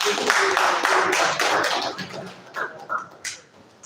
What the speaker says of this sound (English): A round of applause for him as he